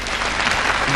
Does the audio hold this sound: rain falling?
no